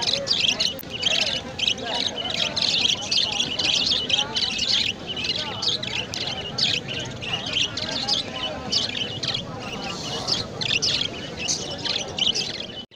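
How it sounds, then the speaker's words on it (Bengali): Pet budgerigars at a bird market in Tebaria, Natore, chirp and twitter in a dense, continuous chatter of many quick, high calls, with a murmur of market crowd noise underneath throughout. "এই দুইটা পাখি কি জাতের পাখি ভাই? বাজরিকা ভাই।"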